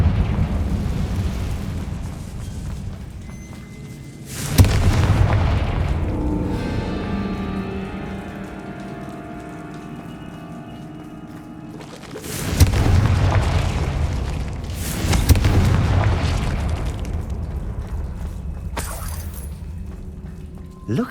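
Confringo fire-spell blasts in Hogwarts Legacy: several loud booming explosions bursting out one after another, each with a rumbling tail, and a voice speaking in the lulls between them.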